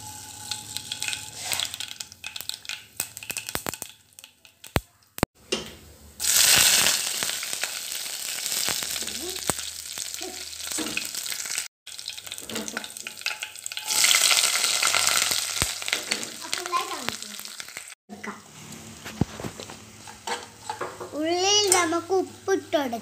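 Mustard seeds sputter and fry in hot oil, bursts of loud sizzling crackle alternating with quieter stretches, with a voice and people talking intermittently.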